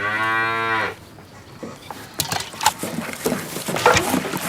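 A calf lets out a single loud, drawn-out moo close by, then breaks off, leaving faint rustling and patter-like farmyard noise.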